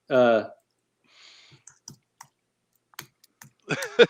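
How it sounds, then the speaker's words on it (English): Scattered, faint keystrokes tap on a computer keyboard in short, irregular clicks, framed by bits of speech at the start and end. "So while Skelly's typing that out"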